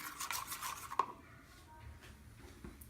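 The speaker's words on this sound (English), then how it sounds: "go ahead and mix all that using the spoon" A spoon mixes yogurt with red chili, salt and black pepper in a bowl for a mushroom 65 coating. Close rubbing strokes are followed by a single clink, then quieter scraping, with no talk.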